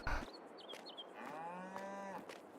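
Cattle in the Farming Simulator 22 video game give a long, low, drawn-out moo over quiet background noise, preceded by a short thump and a few faint high chirps.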